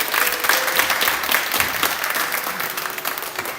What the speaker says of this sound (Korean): 다시 한 번만 서로를 위해서 격려의 박수를 부탁드립니다